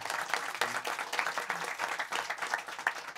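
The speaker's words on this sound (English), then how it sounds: "please have a warm round of applause for these wonderful people" An audience at a design event applauds panel guests in a steady round of clapping, heard at a moderate, even level.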